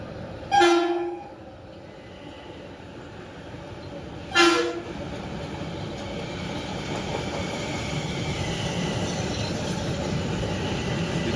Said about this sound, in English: One is a Hudson train, one is a Harlem train.